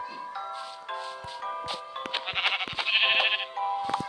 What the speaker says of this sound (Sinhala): ආතවර බැටළුව ඉන්නවා.